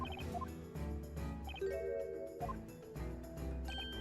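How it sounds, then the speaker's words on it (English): A bird gives its testimony in a Professor Layton puzzle game: a string of bright chiming and squawking notes in uneven bursts, loud and close over a steady musical bed, with no talking. "we're gonna hear what the bird has to say in its testimony."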